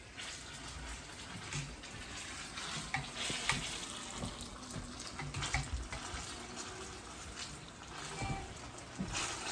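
Plantain and jackfruit turon wrapper frying in a little oil in a shaken pan, a steady close sizzle with scraping and clattering pan movements throughout.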